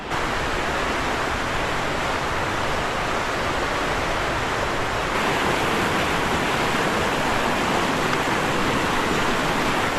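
A mountain river near Atsunta Pass rushes steadily with a dense, unbroken roar of flowing water, loud and close, with no talk over it.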